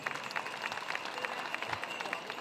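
At a cultural presentation during a community festival, a faint, distant crowd applauds steadily, a soft continuous patter of many hands clapping.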